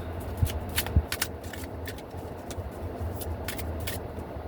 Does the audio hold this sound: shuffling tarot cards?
yes